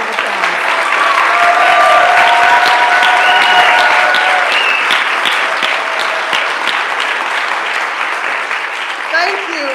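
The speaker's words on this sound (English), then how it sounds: "Please give them a round of applause." A room full of people applauds warmly for the board members at a press conference, a dense, steady clapping that holds strong and then tapers slightly toward the end.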